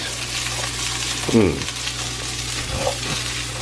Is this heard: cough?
no